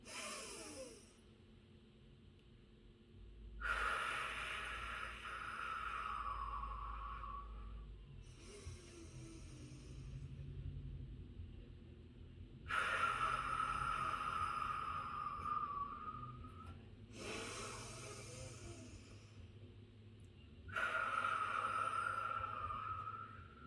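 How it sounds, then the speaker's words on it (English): Slow, deep breaths cycle in and out, each long airy inhale and exhale close and steady, repeating about every eight seconds over a faint background hum. "And here's the inhale."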